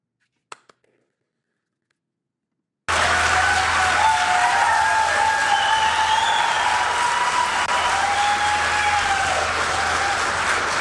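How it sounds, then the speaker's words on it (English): Near silence with a couple of faint clicks, then a political rally crowd bursts into loud, sustained applause mixed with cheering and shouted voices that carries on for about eight seconds. "And people just applaud for anything."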